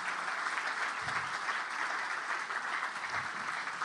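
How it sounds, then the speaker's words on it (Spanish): An audience at a talk on current affairs and markets gives a steady, dense round of applause, even and sustained from start to finish, with no voices rising above it. "Por favor, un aplauso."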